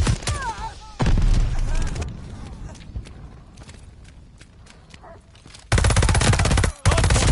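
Rapid automatic gunfire from Call of Duty Vanguard during a Hardpoint multiplayer match, with loud sustained bursts at the start and end and quieter scattered single shots and footsteps between them.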